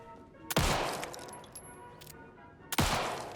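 Two loud, sharp gunshots in Alan Wake 2, each followed by a long ringing decay, spaced about two seconds apart against a quiet game backdrop.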